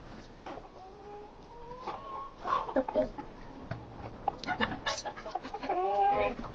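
Several chickens cluck and squawk nearby in uneven bursts in a snowy Ukrainian village yard near a fire, with a person's voice mixed in among them.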